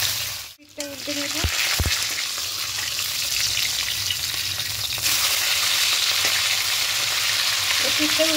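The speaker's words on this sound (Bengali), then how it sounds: "পিঠটা উল্টে নেবেই লাল লাল কড়া করে ভেজে নেব।" Tilapia fish frying crisp in hot oil, a continuous close sizzling hiss with a couple of brief clanks of a utensil early on.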